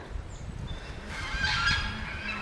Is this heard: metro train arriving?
no